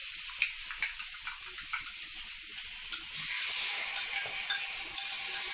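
Butternut squash hisses and sizzles in hot coconut oil in a pan, a bright steady frying noise with faint clicks early on that swells louder and denser halfway through.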